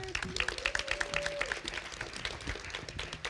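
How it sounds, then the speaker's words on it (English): An audience at an NAACP forum claps for the mayor of Hampton, a quick burst of applause that stays fairly faint beneath a speaker's voice. "Give him a round of applause."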